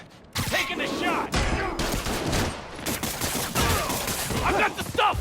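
Bursts of gunfire in the video game Spider-Man Miles Morales, rapid shots over busy game sound and shouting voices, loud and continuous.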